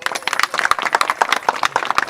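Audience applause in a school gathering, a dense patter of many hands clapping close by for about two seconds with no talk over it.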